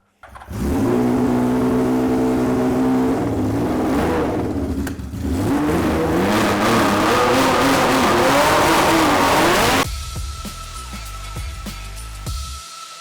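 A car engine running through a 6-2 exhaust system revs hard and loud for about ten seconds with a raspy, rising roar. It drops to a quieter idle with a whir on top.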